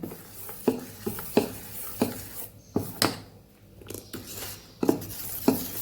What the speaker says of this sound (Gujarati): બધું સરસ આપણે મિક્સ કરી દઈશું